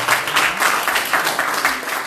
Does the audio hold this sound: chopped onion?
no